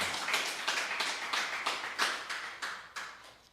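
A church congregation clapping together in an even, steady rhythm, about a dozen sharp claps, fairly loud and close, with no voices.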